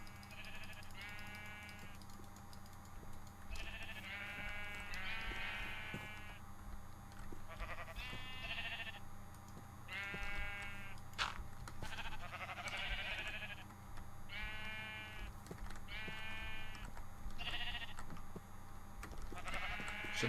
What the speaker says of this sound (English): So let's take care of these god-awful sheep.